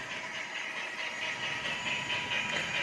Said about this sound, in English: Here's my train.